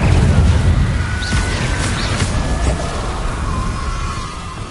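A fire spell is cast in Hogwarts Legacy: a loud, sustained booming whoosh of flames with crackling bursts over a dense rumbling low end, continuing without a break for several seconds.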